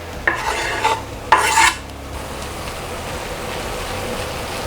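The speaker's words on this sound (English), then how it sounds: "I'm gonna add the red peppers." Red peppers go into ground turkey sizzling in a pan, followed by two brief bursts of stirring and scraping and then a steady, soft sizzle with no talking.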